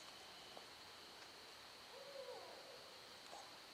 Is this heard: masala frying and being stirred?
no